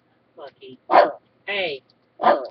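Lucky, a pet dog, barks several times close by in short yips and barks with brief gaps between them, and a person speaks a word or two between the barks.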